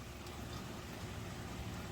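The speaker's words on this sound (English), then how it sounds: "listen to this. It's raining." Steady rain falls outdoors at a sea kayaking spot, a soft, even hiss of drops with no break, faint and continuous.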